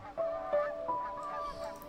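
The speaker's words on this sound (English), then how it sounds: "Are those seagulls? No, they're ducks. No, they're seagulls." Several honking water-bird calls, ducks or seagulls in the video game Unravel 2, ring out in a quick series of four or five nasal cries, fairly close over a quiet background.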